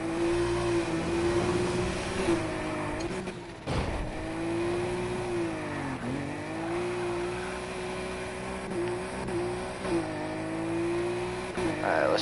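A tuned car in a racing video game drift run, its engine holding a loud, steady rev with brief dips and rises in pitch as throttle shifts, continuous and close.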